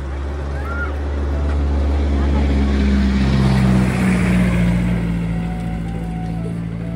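Steady droning engine hum of a passing motor near a spring, loud and close with a slowly shifting pitch, building to a peak midway and then easing off.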